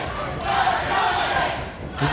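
A wrestling arena crowd shouts and roars continuously at a pro wrestling match, a dense, loud wash of voices without pause.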